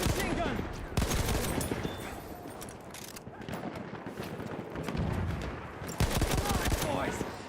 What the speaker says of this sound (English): That's an enemy machine gun.